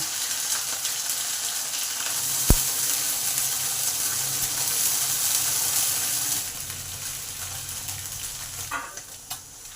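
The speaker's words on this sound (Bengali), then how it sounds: "তেল আমার গরম হয়ে গেছে এবার মাছগুলো এক করে ভেজে নেব" Small mourala fish fry in hot oil over low-to-medium gas, giving a steady, close sizzle that holds for the whole stretch. A sharp click cuts in early, and brief utensil clatter comes near the end.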